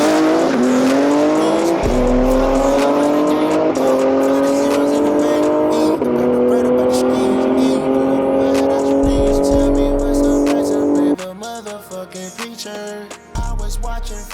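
Tuned BMW M car, a G80 M3 or F90 M5, launching hard in four-wheel drive at a drag race: a loud engine rising through gears with shifts, ending in distant engine noise and brief voices.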